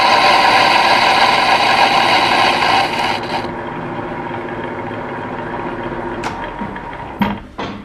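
A lathe takes a facing cut across a flywheel, a loud steady whine with a tonal ring that stops after about three seconds, leaving a quieter machine hum broken by a few sharp knocks and clicks.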